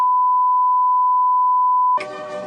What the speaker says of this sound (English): That was a long beep right there.